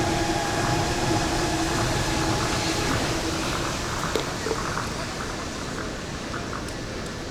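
A monorail train in Japan rumbles past, a steady broad roar with a faint tonal whine that slowly eases in loudness, with occasional small clicks and no talking.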